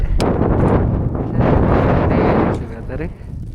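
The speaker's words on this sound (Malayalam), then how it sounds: "നല്ല കാറ്റും വരെയുണ്ട്" Strong wind on a snowy mountain near Zakopane, Poland, roars and buffets the microphone in heavy, booming gusts that ease off briefly near the end.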